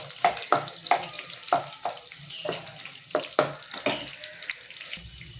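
Onion and garlic dropped into a hot pan and fried, with a run of sharp, rhythmic sizzles and scraping stirs roughly every half second, close and fairly loud, nobody speaking.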